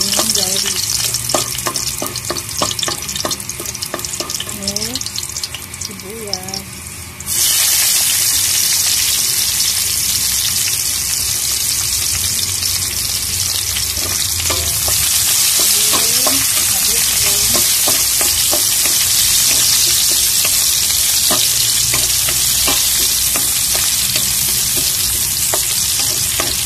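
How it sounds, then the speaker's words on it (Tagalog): Garlic frying in a pan until browned, a loud steady sizzle heard close with intermittent stirring clinks and scrapes, the hiss swelling stronger after a few seconds and holding throughout. "Masarap pag medyo brown-brown na yung ating garlic."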